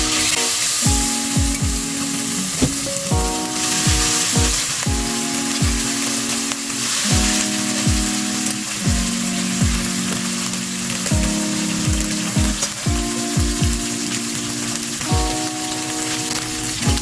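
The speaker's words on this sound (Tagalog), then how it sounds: "ipapray muna natin yung ating na-marinate na chicken" Marinated chicken frying in hot oil in a wok, a steady broadband sizzle throughout, mixed with prominent rhythmic background music with regular thumping beats.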